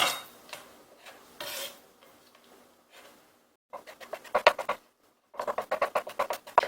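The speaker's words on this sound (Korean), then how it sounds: "이렇게 해서 베이컨 썰었으면 얘도 옮겨주세요" A knife slices bacon on a cutting board, bursts of rapid close chopping taps separated by quiet pauses, with no speech.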